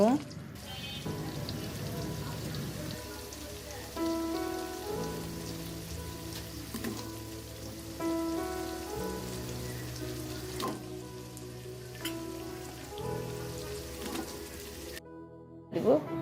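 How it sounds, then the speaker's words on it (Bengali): Shrimp stir-fried in a salted spice paste for a Bengali bottle gourd and shrimp dish, giving a continuous rain-like sizzle and crackle from the pan, with soft tonal background music underneath and a brief cut near the end. "এখন চিংড়ি মাছগুলো ভালো করে একটু কষিয়ে নেব"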